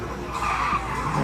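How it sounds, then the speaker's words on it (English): A drift car slides across a soaking wet circuit after a handbrake initiation during DriftCup 2019 qualifying, its tires hissing and skidding under a steady engine roar for about a second, loud and close. "Handbrake initiation there for Jamie."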